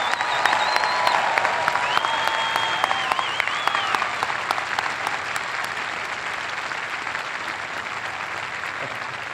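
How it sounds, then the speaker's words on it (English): A large crowd at the Coast Guard Academy Class of 2025 commencement applauds steadily and loudly, with a few whistles early on before the clapping settles into an even, sustained roar. "please join me in a heartfelt round of applause to our great partners"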